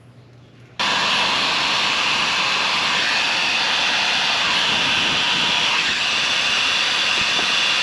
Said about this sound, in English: so that I can use my heat gun to shrink that heat shrink